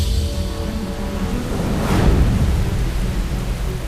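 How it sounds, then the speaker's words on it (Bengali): Heavy rain pours steadily during a typhoon thunderstorm in Japan, a dense loud roar of rainfall with a deep rumble of thunder swelling near the middle, wind-driven and continuous with no voices. "মুষলধারে বৃষ্টি ও বাতাসের সাথে সবথেকে ভয়ানক বন্যায়"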